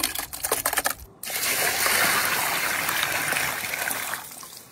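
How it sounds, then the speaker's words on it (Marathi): Clean water gushes and splashes steadily over goat kapure being rinsed in a bowl, with a few sharp clattering handling sounds at the start before the continuous close rush of water. "आपण आता कपुरे व्यवस्थित धुवून घेऊ स्वच्छ पाण्याने।"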